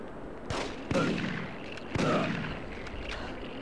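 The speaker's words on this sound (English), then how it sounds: "Just running around a warehouse with a shotgun." Shotgun blasts in The Getaway video game ring out inside a warehouse: a few sharp, loud reports spaced irregularly, each trailing into a booming echo, with quieter background noise between shots.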